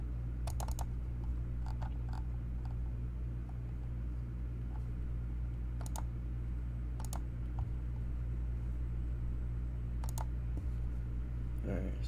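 Scattered sharp clicks and knocks on a desk during a live stream, several isolated bursts over a loud steady low hum, close by and fairly prominent.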